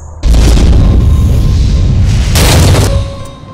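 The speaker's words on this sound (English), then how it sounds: "I'm gonna have Amy destroy those wooden planks over there." Wooden planks smashed by Amy's shockwave attack in the survival horror game AMY: a loud, sustained booming crash that rumbles on for about three seconds, then a brief higher burst of debris before trailing off, with no talk.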